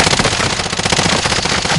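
Dense automatic gunfire rattles without pause in an online shooter match on PS4, loud and close, the rapid shots blurring into one continuous burst.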